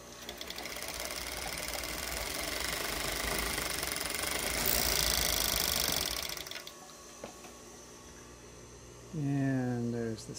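A Yamato Z365 overlock serger with two needles and five threads runs a stitch, a dense fast mechanical chatter for about six seconds that stops abruptly, followed by a voice speaking.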